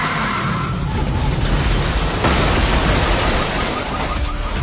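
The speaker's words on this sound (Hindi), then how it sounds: "उन्हें उनके घर के बाहर कोई एक्सीडेंट होने की आवाज आई।" A car accident crash outside a house, heard as a loud, sustained burst of broadband noise with skidding and crunching impacts that surges again midway through, filling the whole clip with no speech over it.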